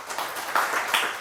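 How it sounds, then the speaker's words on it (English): Audience applause after a talk on alcohol, a moderate wash of many hands clapping that swells briefly twice, steady and fairly close throughout the short burst. "So I think we should give a round of applause."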